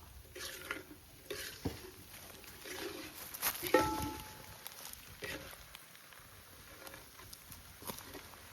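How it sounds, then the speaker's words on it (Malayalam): Masala for an Idukki style botti curry is stirred in a pan, with soft scraping strokes and light sizzling at a fairly quiet level, and a brief clink partway through. "നല്ലപോലെ ഇളക്കി കൊടുക്കാം."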